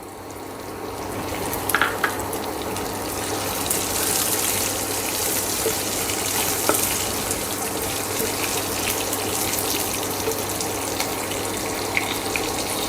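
Curry leaves dropped into a hot pan of oil for upma give off a steady, broad sizzling hiss that holds through the whole stretch, with a few faint clinks near the start and no voices.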